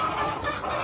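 Chickens bought for backyard raising cluck close by in a short, busy burst of overlapping calls, with no voices over them.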